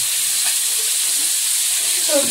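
Food sizzles and hisses steadily in a home kitchen as a mother cooks, a broad continuous frying wash with faint clinks and a soft voice rising briefly near the end.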